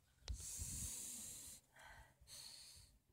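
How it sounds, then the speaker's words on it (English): A sharp intake followed by long, steady hissing sniffs at a rose in a back garden, close to the microphone, with a brief pause between two drawn-out inhalations. "Let's have another sniff"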